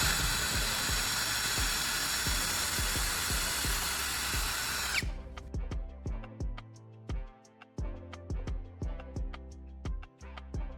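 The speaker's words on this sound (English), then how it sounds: "I'm marking the center and drilling a hole into the end." A power drill whines steadily while boring a hole into the end of a metal piece, then stops and restarts in short repeated bursts with revving pulses.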